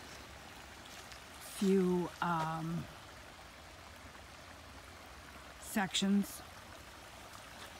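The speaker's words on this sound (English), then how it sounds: "this little rippling brook" A small rippling brook beside a hiking trail on Sugarloaf Mountain gives a faint, steady trickle and wash throughout, briefly interrupted twice by a nearby person speaking.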